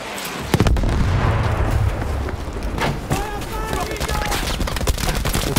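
A grenade blast in the Battlefield V game, a loud booming explosion with a roaring low rumble, followed by a dense wash of battlefield noise, crackling debris and distant shots, with someone talking over it.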